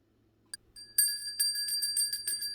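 A small bicycle-style bell rings in quick repeated dings, bright and close, after a brief click at the start.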